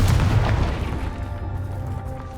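Confringo blasting spell exploding in Hogwarts Legacy, a loud deep boom right at the start that rumbles and fades over a couple of seconds.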